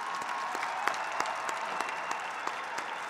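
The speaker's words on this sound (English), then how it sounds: "Please applaud these students for their academic honors" A high school graduation audience in Peoria applauds students receiving academic honors, a steady, full round of clapping from a large crowd with scattered sharper claps rising above the sustained patter.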